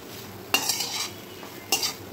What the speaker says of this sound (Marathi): छान असं परतून घ्या।